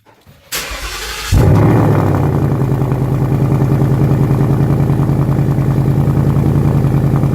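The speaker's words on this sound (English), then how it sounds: "Here we'll do a little cold start here in the garage." A car with a quad-tip exhaust cold-starts inside a garage: a short starter crank, then the engine catches with a loud burst and settles into a steady, rumbling idle close by, its exhaust note echoing off the back wall.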